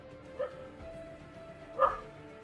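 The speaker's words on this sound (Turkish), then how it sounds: "Köpekler bir şey görüyor ama insanların görmediği bir şeyi ve havlamaya başlıyorlar." Dogs giving two short barks about a second and a half apart, the second louder, at moderate distance against a quiet background.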